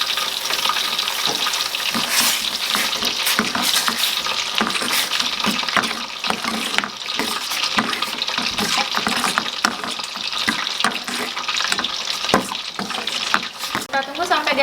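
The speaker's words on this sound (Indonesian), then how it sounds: "Kita tunggu sampai dia mendidih teman-teman ya, supaya bawang bombaynya lebih layu lagi." A sauce with onion and sweet soy sauce simmers in a pan, giving a steady close bubbling sizzle with occasional stirring clinks and soft voices in the background.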